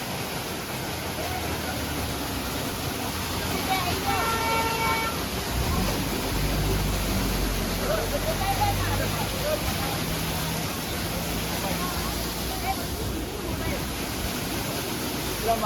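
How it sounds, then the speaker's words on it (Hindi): A small mountain waterfall on a Himalayan road trip in the Spiti region roars in a steady broadband rush, close and continuous, with faint horn-like tones and distant voices mixed in. "एक यहाँ पे छोटा सा झरना मिला है"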